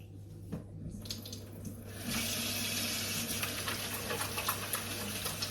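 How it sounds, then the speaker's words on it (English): A kitchen tap opens and runs steadily while hands are washed under it, the broad splashing rush starting partway in and holding close and even to the end. "First, I wash my hands."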